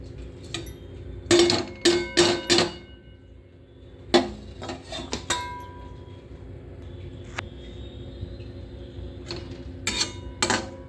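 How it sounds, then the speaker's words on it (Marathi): Grated coconut, about one and a half cups, being stir-fried in a wok. A utensil clinks and taps sharply against the metal in irregular clusters over a quiet background. "हे आता खोबरं असं परतून घ्यायचं"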